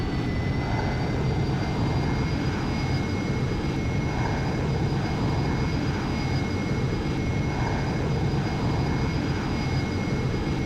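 A fixed-wing airplane engine in a video game roars steadily at takeoff from a runway, a loud continuous drone with sustained tonal whine that holds throughout without pause.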